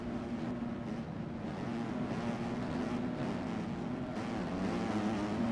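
KTM and Husqvarna motocross bikes race at a pro-am motocross event, heard as a continuous droning engine roar with wind noise, steady and moderately distant, without clear individual passes.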